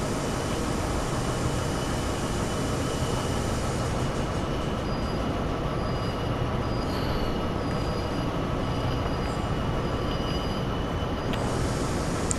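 Class 43 high-speed train braking in Train Sim World: a steady, loud rumble of wheels on rail with a continuous rolling roar and faint high squealing tones, sustained without pause throughout.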